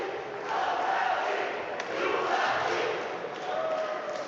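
A large crowd of Bulgarian fans cheers and roars continuously at a European weightlifting championship in Batumi, a loud, sustained wash of voices swelling and dipping without a break.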